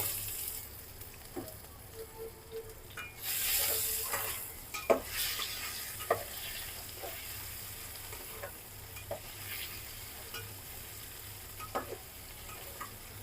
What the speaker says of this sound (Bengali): লবণ আর হলুদ দিয়ে যদি আলুটা ভাজো তাহলে তেল লবণ কিন্তু আলুর মধ্যে মিশে যাবে